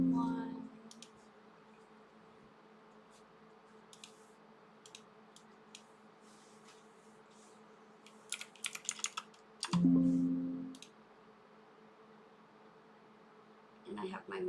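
Brief typing on a computer keyboard to enter a number, with scattered faint key clicks and a short burst of quick taps near the middle, over a steady electrical hum and quiet room tone, plus short voice fragments at the start and end.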